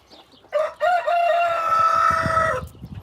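A rooster crows loudly and close by in a garden, one long drawn-out call lasting about two seconds, with softer chicken sounds around it before and after.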